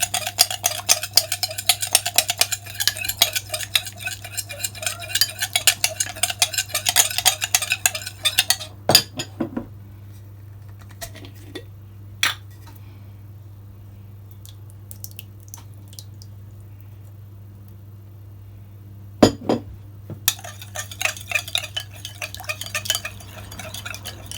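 A spoon stirs ketchup into a cheesy potato meatball mixture in a bowl, making wet, squishy scraping and light clinks in quick bursts, then it falls quiet apart from a few isolated taps.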